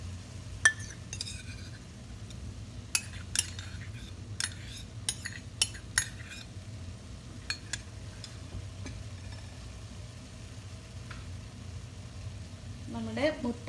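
Chili sauce poured and stirred into shrimp vegetable fried rice frying in a pan, a steady low sizzle under repeated clinks and scrapes of a utensil against the pan, with a few quiet words spoken.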